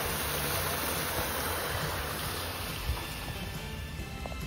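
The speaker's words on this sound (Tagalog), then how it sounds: "Malinis ang tubig guys na dumadaloy" Clean water flowing in a small stream beside a lakeside hotel at Lake Como, Italy: a soft, steady rushing and trickling wash, fairly faint and even throughout, with no speech.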